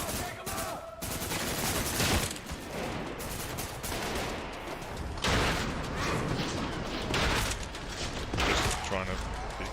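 Shotgun gunfire and combat in the Trepang 2 video game, loud blasts and bursts of shots packed together with chaotic battle noise, and a voice talking in places.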